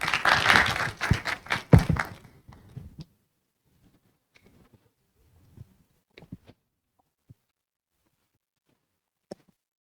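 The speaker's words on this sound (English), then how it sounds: "please join me in a big warm round of applause for Tan-Wai Kaey" Conference audience applauding a speaker at a cybersecurity talk, a dense burst of clapping for about two seconds that quickly fades, followed by scattered faint taps and knocks in a quiet room.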